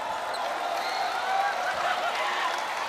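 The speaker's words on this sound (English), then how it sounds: "And look at the round of applause." A basketball arena crowd applauds during a PBA game, a steady even roar of clapping at moderate distance that holds evenly from start to finish.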